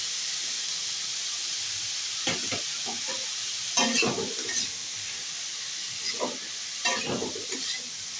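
Chopped chili and onion frying in a pan: a steady close sizzle and hiss, broken by several scraping stirs of a spatula, with no one speaking.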